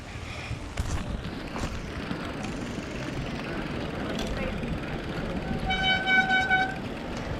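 A train horn sounds during a mountain bike trail ride in Phuket, Thailand: a short harmonic toot near the end, rising over steady wind-like outdoor noise, with faint voices in the background.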